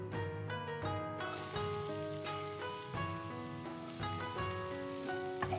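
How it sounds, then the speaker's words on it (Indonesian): Garlic frying in fresh oil for sapo tahu with chicken and mushrooms, a soft continuous sizzle beneath louder ringing tonal notes, fairly quiet and without speech. "Terus bawang putih kita masukin"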